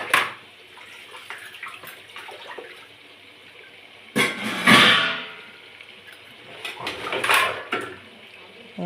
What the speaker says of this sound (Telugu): అల్లం వెల్లుల్లి మొత్తం ఈ ముక్కలకు పట్టేలాగా కలుపుకోండి.